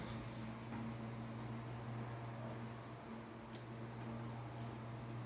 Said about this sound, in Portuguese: o barulho que estão ouvindo é do ventilador